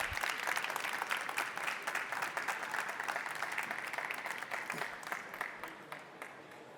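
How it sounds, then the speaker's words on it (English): Audience applause at an electronics trade fair awards ceremony, a sustained, fairly quiet round of clapping from a seated crowd that slowly thins out toward the end. "Congratulations and a round of applause"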